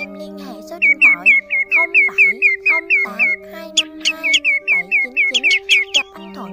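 Greenshank and grey-headed sandpiper calls ring out as a rapid series of sharp, repeated whistled notes in quick bursts, carried over a steady low hum and other faint tones.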